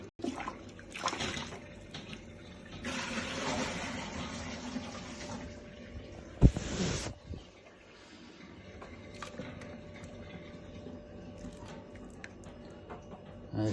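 Water from a distilling setup is tipped out of a container in uneven pours and splashes, with a sharp knock midway, then quieter trickling and handling noises.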